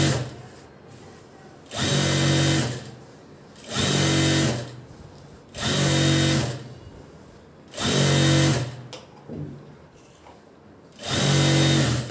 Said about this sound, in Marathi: वरची दाब टीप देतो ती व्यवस्थित एक सारखी द्यायची आहे